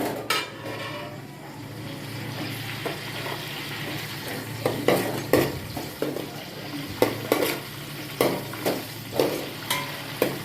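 Chopped onion frying in hot oil in a pan for vegetable biryani: a steady close sizzle, with scrapes and clinks from stirring that come more often and more sharply in the second half, and no voices.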